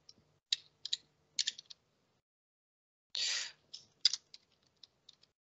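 Clicks of a computer keyboard as a search phrase is typed, arriving in short separate bursts with pauses between them, plus one longer rapid run of keystrokes, all close and fairly quiet with no talking.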